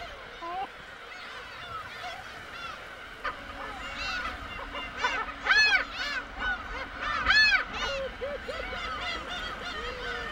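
A large colony of black-tailed gulls at their nesting grounds calls continuously, harsh honking, mewing cries overlapping near and far, with louder bursts of several close calls partway through.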